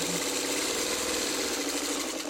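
A sewing machine stitches the final rows of a checkerboard quilt block together, a steady close whirring hum that runs unbroken for a couple of seconds.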